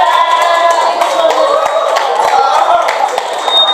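Seminar attendees at a talk for teachers on using AI clap in a scattered, moderate way, with individual claps over a background of voices and a ringing tone.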